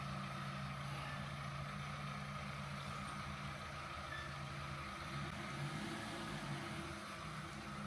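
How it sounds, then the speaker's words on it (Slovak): A truck engine idles on a street in an old town at night, a faint, steady low rumble with a continuous hum, heard from a distance through an open window, with no talk. "Teraz nechá to auto naštartované, bude tam 10 minút stáť."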